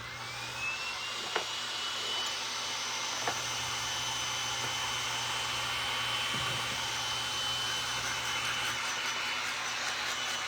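A hair dryer blows steadily on wet paint on a wooden craft piece, a continuous close whooshing whine lasting about ten seconds, with a few faint knocks and no talk.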